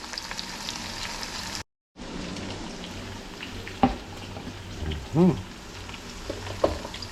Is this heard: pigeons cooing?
no